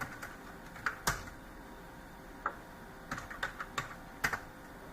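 Sparse keystrokes on a computer keyboard while a command is entered in a Windows command prompt: scattered single clicks and short bursts of taps, close by, over a faint steady room hiss.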